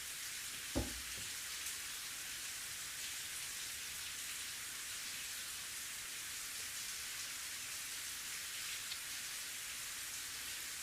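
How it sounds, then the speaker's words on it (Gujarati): Heavy rain pours down in Ambaji, a steady dense hiss of downpour that stays even throughout, with a single sharp knock near the start and no voices. "ધોધમાર વરસાદ વરસતા અંબાજીના બજારોમાં પાણી ભરાઈ ગયા છે"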